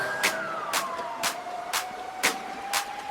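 A police jeep siren sounds as one long, slowly falling tone, with sharp rhythmic bursts at steady intervals and no voices.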